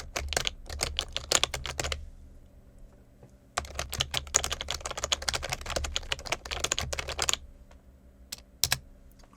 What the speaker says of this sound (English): I'm pretending that I am typing something.